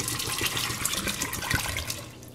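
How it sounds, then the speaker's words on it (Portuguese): Water pouring steadily into an Electrolux PCC20 electric pressure cooker holding beans, a continuous splashing, gurgling stream, close and fairly quiet, with no talking. "1 litro d'água eu coloco"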